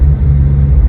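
Deep steady rumble from a BMW F36 fitted with an AWE Tuning touring quad axle-back exhaust, loud and close, one continuous brief stretch with no talk.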